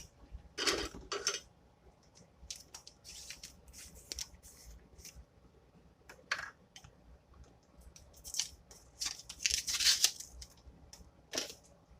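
Unopened black pepper container being opened in a kitchen, a series of close, sharp plastic clicks, crinkles and scraping snaps in short bursts, with quiet pauses between them.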